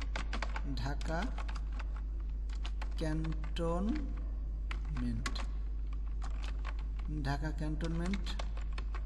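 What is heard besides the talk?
typing on a computer keyboard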